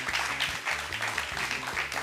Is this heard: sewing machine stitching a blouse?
no